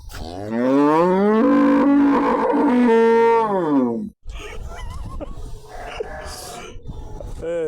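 A cow on a small farm gives one long, loud, deep moo lasting several seconds, followed by quieter rustling and faint voices nearby.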